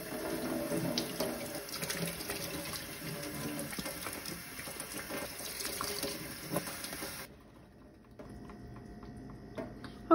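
Tap water rinses a cold brew tea steeper, a steady close splashing and trickling stream that cuts off abruptly partway through, leaving faint small clicks and drips afterward.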